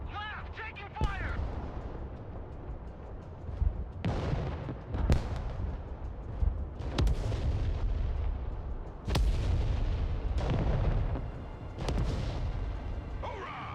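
Repeated gunfire and heavy artillery booms in the Broken Arrow military strategy game, sharp loud blasts every second or two over a continuous rumbling battle bed, with soldiers' voices calling out beneath.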